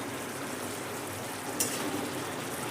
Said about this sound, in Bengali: এবার একটু নেড়ে দেবো আলুটা।